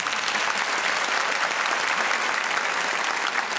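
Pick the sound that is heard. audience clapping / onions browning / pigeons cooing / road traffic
audience clapping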